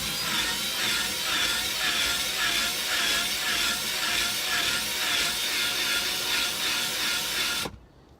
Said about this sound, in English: So you just take a drill and like a Phillips head and you just route it out a little bit.